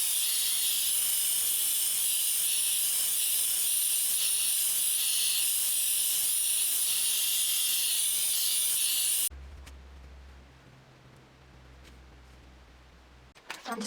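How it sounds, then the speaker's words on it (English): A hair dryer blows steadily on freshly moussed short pixie-cut hair, a loud continuous whooshing hiss that stops abruptly partway through, leaving a quieter low hum and faint handling noises. "And then I'm going to blow dry this."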